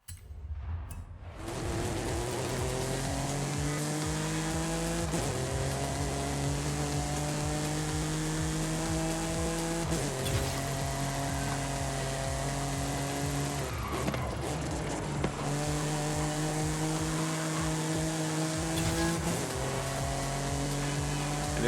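Car driven with oversteer in Forza Horizon 5, its engine holding steady harmonic tones that climb and shift with gear changes, with tire squeal as the car slides, loud and continuous throughout.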